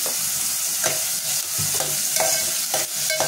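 Sliced onions with green chillies and salt fry in a pan, a constant bright sizzle broken by regular scraping stirs of a utensil about every half second, close and loud, with no talking.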